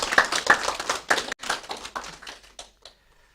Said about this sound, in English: Let's give her a big round of applause though for that.